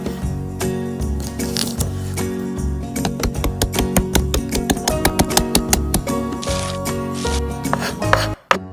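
Garlic for Thai crab soup is chopped with a knife on a cutting board in a rapid run of crisp, close taps that speed up into a steady rhythm, then end with a few louder knocks.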